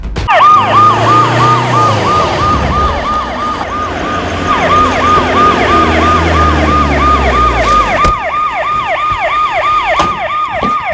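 An ambulance siren wails close and loud in a fast repeating up-down cycle, running continuously alongside traffic noise.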